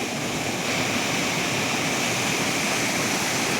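A waterfall near a dam pours steadily, a dense, continuous roar of rushing water that stays loud and even throughout with no voices.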